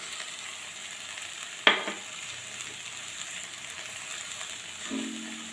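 A pan of pumpkin curry with freshly chopped coriander is stirred over the heat, giving one sharp scrape followed by a soft, steady sizzle in the background and a second faint scrape near the end.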